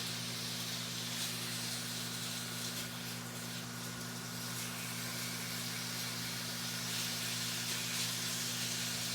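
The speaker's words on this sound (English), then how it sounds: "You hear the sizzle. You know your pan is heated up nicely." Chicken sizzles in a heated pan with a steady, even hiss and spatter throughout, moderately quiet and close, with no talking.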